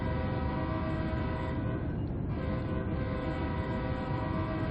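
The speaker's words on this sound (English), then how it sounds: "Like it's literally the most Amtrak sounding horn you'll ever hear." An Amtrak locomotive horn in the Train Sim World game on the Northeast Corridor, a loud sustained chord blast lasting several seconds with a short dip in the middle, heard alone.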